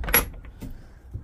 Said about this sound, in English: come and shut the door